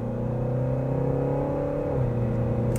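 A 2021 Kia Sedona minivan engine accelerates at full throttle with a steady, rising drone and rumble heard from inside the cabin, and the pitch dips briefly near the end as it shifts.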